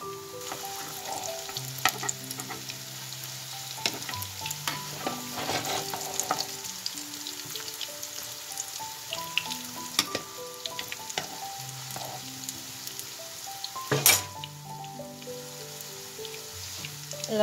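Stuffed potato fritters filled with ham and cheese fry in oil and get turned. A faint, steady sizzle comes with occasional soft utensil clinks under quiet background music.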